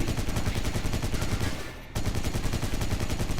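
Machine gun fire in a retro shooter played on a Powkiddy X18 handheld rattles as a dense, continuous burst of rapid shots, briefly dropping out for a split second before the loud stream resumes.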